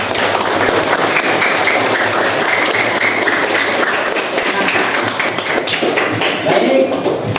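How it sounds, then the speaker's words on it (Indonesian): Children applaud in a classroom during a coding lesson, a dense run of steady clapping that lasts several seconds and stays loud throughout. "kasih tepuk tangan"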